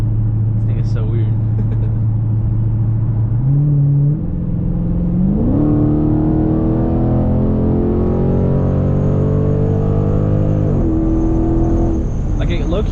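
A bagged 2022 widebody Dodge Charger Scat Pack with an 8-speed automatic under a hard pull, heard from inside: a deep engine drone rising in pitch with each gear, the shifts clearly audible, loud and continuous.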